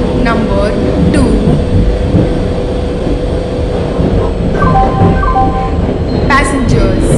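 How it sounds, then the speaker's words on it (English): In Indian Train Simulator 2020, a passenger express train rolls into a station platform with a loud, continuous rumble. Brake squeals and horn-like tones rise at intervals, and a station announcement voice carries over the noise. "Passenger express is arriving at platform number 2."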